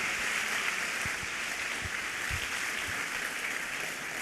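A symposium audience claps steadily, with a broad wash of applause holding at an even level throughout and a few low thumps underneath.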